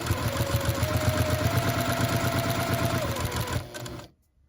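Juki sewing machine stitching a quilt, with a steady rapid close mechanical clatter that runs for several seconds, then slows and stops, leaving near silence.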